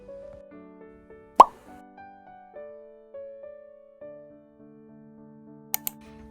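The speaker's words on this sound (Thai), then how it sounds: "จะให้ฟิลเหมือนกับลูกโป่งแตกหรือว่าฟองน้ำแตก" A single sharp pop sound effect like a balloon or bubble bursting cuts through soft background music, loud and brief, followed near the end by two small clicks.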